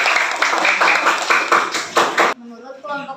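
A group of elementary school students claps together in a classroom, a quick series of about seven loud, sharp, rhythmic claps, followed by a brief moment of speech.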